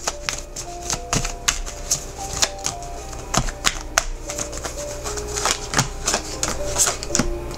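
Tarot cards shuffled and pulled, a dense run of close, crisp riffles and slaps repeating steadily without pause, with soft background music underneath and no talking.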